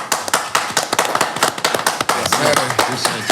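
A round of applause for two guests on a tax-talk show: dense, fast clapping with sharp hand-claps throughout, fairly close and loud, with voices talking over it.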